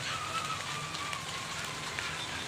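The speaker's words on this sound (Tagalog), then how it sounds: "Kung napapansin nyo, umuulan." Steady rain patters on surfaces all around, a dense even hiss with no talking.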